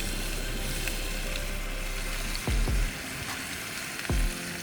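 Mushrooms frying in oil in a pan at a camping site, a steady close sizzle with a low hum underneath and a few brief thumps near the end.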